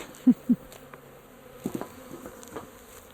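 Honey bees buzzing in a low, steady drone close by during a hive removal, with a couple of dull knocks near the start.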